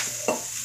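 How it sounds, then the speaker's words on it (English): Vegetables for Scotch broth sizzle in a pan over medium-high heat, a short, soft frying hiss with one quick stirring scrape partway through. "You can hear the sizzle, and that's what you want."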